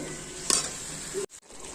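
Okra frying in oil in a pan, a steady close sizzle with a brief scrape of stirring and a short clatter, cut by a momentary gap near the end before the sizzle resumes.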